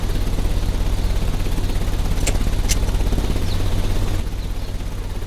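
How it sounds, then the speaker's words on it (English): Fans of a ventilation system run in the Sherlock Holmes: Crimes and Punishments game, a loud steady low hum and whir with two short bright clicks midway, easing slightly near the end. "The ventilation system is working."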